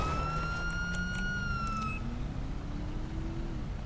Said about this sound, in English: Keep your sirens on until he stops.